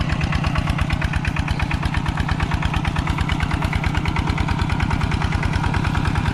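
A walking tractor engine runs while plowing a rice field, a loud, close, steady single-cylinder chug pulsing in an even rapid rhythm throughout, with no voices.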